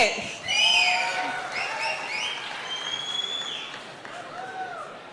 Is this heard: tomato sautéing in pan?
no